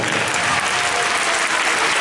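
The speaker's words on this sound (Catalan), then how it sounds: "I els anem a veure amb un fort aplaudiment" At a school dance event, a large audience bursts into loud, dense, continuous applause that fills the hall evenly for the whole stretch.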